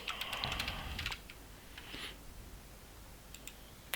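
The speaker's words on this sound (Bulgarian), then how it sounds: "пиша си имейла" Someone types an email on a computer keyboard, producing a quick cluster of soft key clicks, then a few scattered taps. The clicks are faint and close.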